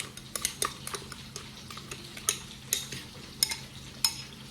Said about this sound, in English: I'm just frying my fish.